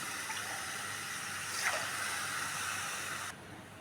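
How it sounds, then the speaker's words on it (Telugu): Water pours into a cooking pan for oats upma, a steady close gushing stream with a brief splashier surge midway before it stops abruptly. "ఇప్పుడు వాటర్ పోసేసుకుందాం"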